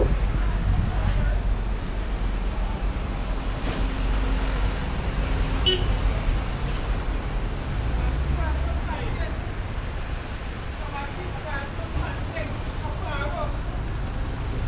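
Steady traffic roars along a highway overpass in Chaguanas, Trinidad, a dense rumble of passing cars and buses with an occasional horn toot. A voice talks over it now and then.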